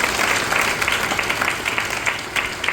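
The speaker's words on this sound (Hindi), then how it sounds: "जोरदार ताली जो इतना अच्छा सिस्टम है हम लोग का।" An audience at a camp gathering applauds, steady dense clapping from a crowd filling the space at moderate loudness with no talking over it.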